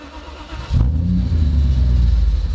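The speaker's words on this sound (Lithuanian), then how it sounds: "Tai yra šiais laikais jau sunkiai sutinkamas 8 cilindrų variklio garsas." A Mercedes-Benz W124 E500 V8 engine fires up after a quiet moment, settling into a loud, deep, rumbling idle close to the microphone.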